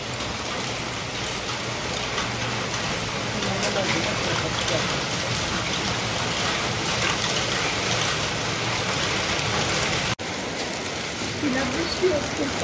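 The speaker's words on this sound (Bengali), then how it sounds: "বৃষ্টি আসছে, বেশ মনে আনন্দ হচ্ছে।" Rain falls during a monsoon downpour, a dense, steady hiss of drops spread evenly throughout, with a brief break near the end.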